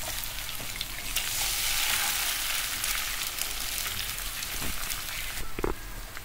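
A spiced tadka mixture with an egg added sizzles in hot oil, a steady close frying hiss that swells midway, with a few light stirring clicks near the end.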